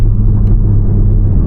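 A Porsche sports car engine, a 718 Cayman or 911, drones with a steady, loud low rumble heard from inside the cabin during a drive, with no talk over it.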